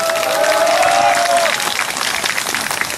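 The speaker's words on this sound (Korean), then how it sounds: "뜨거운 박수 부탁드리겠습니다" Applause from a crowd at a rally of chartered bus operators, with dense clapping and cheering that stays loud across the whole stretch and a brief whistle-like tone near the start.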